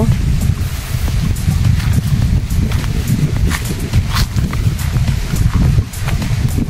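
Strong wind in Calauag, Quezon, Philippines buffets the microphone in loud, continuous low rumbling gusts, with faint tapping sounds in the background.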